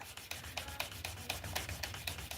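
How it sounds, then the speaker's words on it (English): Quiet, fast rubbing strokes burnish the edges of a leather holster, a steady back-and-forth friction close by. "burnish the edges on this one just because this leather looks a little rough"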